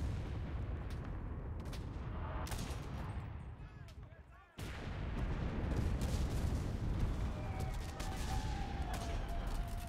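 Bombs explode in a war video game as heavy, rumbling blasts and gunfire fill the scene, cut by a brief drop before loud booming resumes.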